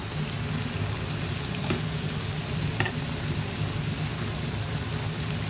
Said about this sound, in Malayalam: ബാക്കിയുള്ളതും കൂടി ഇട്ട് വറുത്തെടുക്കാം.